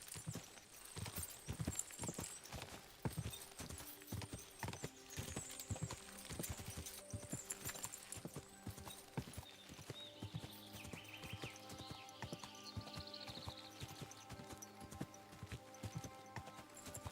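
Horse hooves clip-clopping in the medieval video game Kingdom Come: Deliverance 2, a steady run of loud hoofbeats with an occasional whinny over game music and ambient sound.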